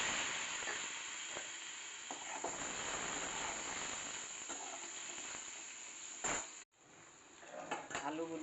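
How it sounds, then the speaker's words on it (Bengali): Boiled potatoes being fried again in oil in a kadai for an egg and potato curry, giving a steady broadband sizzle that runs close and continuous, broken by a few utensil clinks and a brief dropout near the end. "সেগুলো আবার তেলে আর একটু ভেজে নিচ্ছি।"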